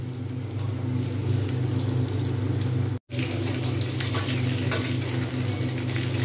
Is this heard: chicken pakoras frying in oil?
yes